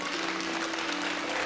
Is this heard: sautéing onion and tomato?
no